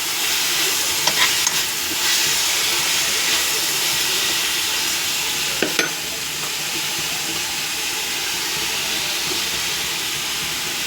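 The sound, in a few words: spinach greens poriyal with grated coconut cooking on stove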